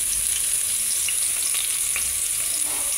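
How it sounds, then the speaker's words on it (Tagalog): Garlic sautéing in hot oil in a pan gives a steady, close sizzle with constant bright crackling throughout and faint stirring, with no voices. "Gisa-gisa lang."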